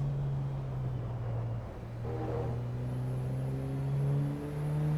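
A race car in the Assetto Corsa EVO driving game hums steadily, then its engine tone climbs as it accelerates through the gears, a clear droning note with no speech over it.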